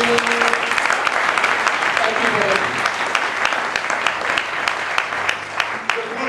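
Applause rolls steadily through a church congregation after a call to cheer the Lord, sustained clapping from many hands filling the whole clip at an even, fairly loud level.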